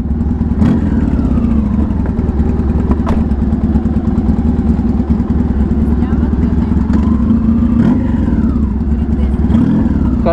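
A motorcycle engine idles close by with a loud, steady, low throbbing rumble, while people talk over it with a few rising vocal sounds.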